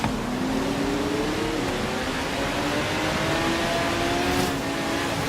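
Racing car engine in Forza Horizon 3, an abandoned barn-find car tuned to run among S1-class cars, roars steadily throughout with rising and shifting gear tones, loud and close with no talk over it.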